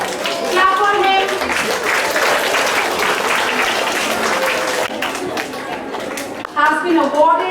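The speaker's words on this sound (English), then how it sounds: "Clap for him." Applause from a school assembly crowd honouring a student award winner, steady broadband clapping with a hubbub of voices throughout, dipping briefly near the end before swelling again.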